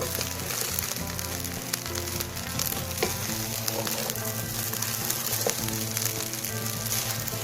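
Spiced masala rice stirred in a hot pan, giving a dense, even sizzle with occasional soft spatula scrapes and clicks, close and steady, with no one speaking.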